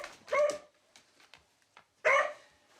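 Dog barking indoors in a house with seven dogs, two sharp, close barks about a second and a half apart, with faint small yips and shuffling in between.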